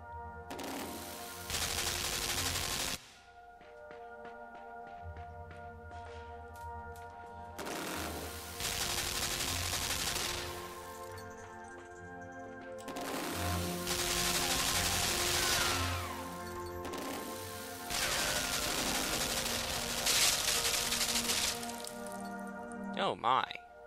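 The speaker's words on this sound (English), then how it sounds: "Oh, shit. Those are machine guns." Machine guns firing in the video game Limbo, loud sustained bursts of rapid fire repeating in four long volleys separated by short pauses, with a speaker's voice occasionally over them.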